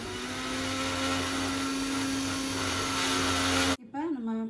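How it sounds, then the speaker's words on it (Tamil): A blender whirs steadily as it purées a banana smoothie with nuts, a loud continuous motor drone that cuts off abruptly near the end, followed by a brief voice. "இப்போ பிளெண்ட் பண்ணி கொண்டு வந்துடலாம்."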